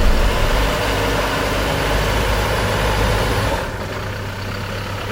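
A Toyota Hilux ute crawls offroad up a hill in low range with the diff locked, its engine droning in a steady low rumble that eases off near the end, with no talk.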